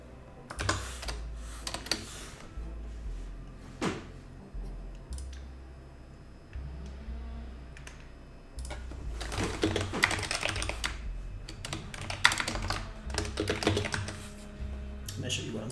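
Typing on a computer keyboard during a development livestream, with bursts of rapid key clicks separated by pauses and a steady low hum underneath, close and moderately loud.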